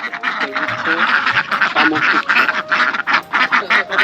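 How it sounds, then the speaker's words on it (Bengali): Ducks being fed on a Padma river island in a village, a dense flock quacking loudly and continuously up close, with people talking over the birds. "এই যে আন্টি যে হাঁসের খাবার দেয় দেখি কিভাবে আসলে খাবারটা দেয় কিভাবে খায়"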